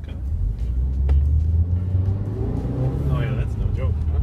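A 2016 Subaru Impreza engine rumbles and pulls during acceleration on a road test drive, a steady low drone heard from inside the car, with a person talking over it.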